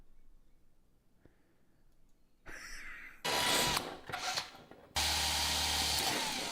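A power drill starts with a faint whine, then bores in loud, close bursts that stop and restart, with a louder sustained run at the end.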